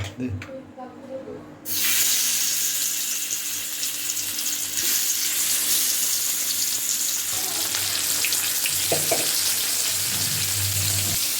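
Tilapia fish dropped into hot oil bursts into a loud, steady sizzle that swells abruptly and holds throughout, with a few clinks and stirring sounds near the end.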